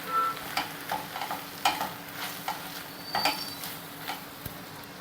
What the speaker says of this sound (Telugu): మసాలా అంతా వేసాక ఇలా బాగా కలుపుకోవాలండి.